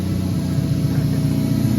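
A Toyota Supra engine runs steadily with no exhaust fitted, a loud, raw low rumble and uneven pulsing, close by, with no talking.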